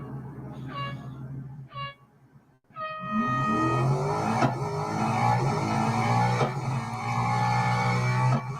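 A Ferrari in a Real Racing 3 autocross event at Melbourne: two short engine blips, a brief lull, then a loud sustained acceleration with rising engine whine and tire squeal through gear changes, close and continuous.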